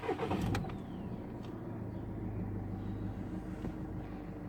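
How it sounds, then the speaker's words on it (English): A 2009 Volkswagen Tiguan TDI diesel with 162,000 kilometres cranks briefly and fires up, then settles into a steady low idle rumble, heard close with no talking. "Just press the clutch and twist the key to start it up."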